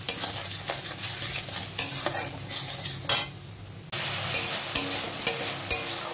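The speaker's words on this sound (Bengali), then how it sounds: "দিয়ে মশলাটা একটু কষিয়ে নিতে হবে" Spice masala with salt is sautéed in a pan, a close sizzle with brisk scraping stirs in a loose rhythm, with a brief dip before the frying noise resumes louder. Nobody speaks.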